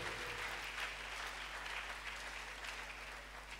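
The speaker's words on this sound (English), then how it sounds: "Can you clap your hands for Jesus?" A church congregation claps for Jesus during a sermon, a dense steady wash of clapping that holds at an even level throughout, with a low hum underneath.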